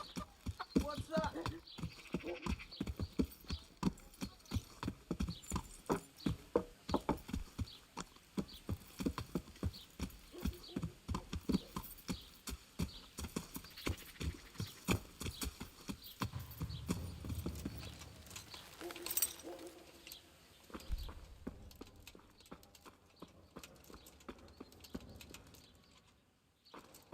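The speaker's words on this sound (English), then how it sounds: "We're gonna have to ride a horse." Steady, rhythmic clip-clop of horse hooves trotting in Kingdom Come: Deliverance, continuing for a long stretch, with voices talking over parts of it.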